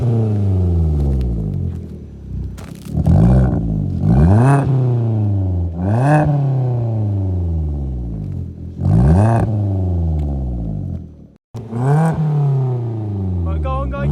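A Vauxhall Corsa fitted with a new Cobra exhaust revs hard over and over, each blip rising sharply and then falling away into a deep, rumbling idle. A brief cut near the end interrupts the sound, and no one speaks.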